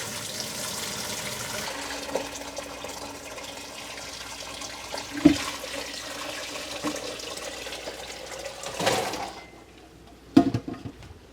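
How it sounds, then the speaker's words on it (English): Ice-bath water drains slowly off cucumbers for lime pickles, a soft running trickle with occasional sloshes and a few louder splashes near the end. "now we're going to drain the water off slowly."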